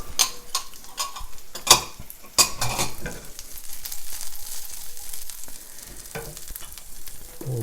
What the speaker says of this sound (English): We'll get those stirred around